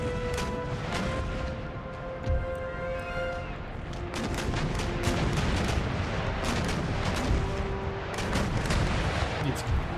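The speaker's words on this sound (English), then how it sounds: "you're gonna start popping off chain shot as you chase after them" Ship cannons firing chain shot in the naval battle game Empire Total War, a dense stretch of booming shots and crashes over continuous battle noise, with voices talking underneath.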